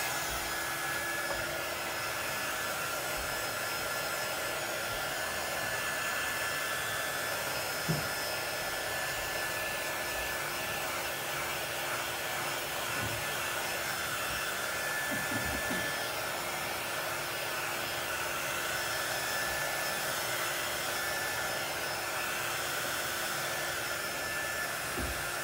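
A hair dryer blows steadily for a long stretch while drying a painted farmhouse tiered tray insert, a continuous even whoosh and whine close by, with no talking.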